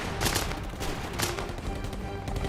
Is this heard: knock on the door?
no